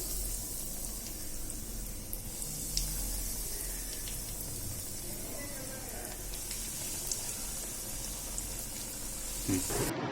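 Crispy cutlets fry in a pan with a steady sizzle and crackle of hot oil throughout, alongside light watery hissing, a few brief clinks, and a soft voice speaking in the background.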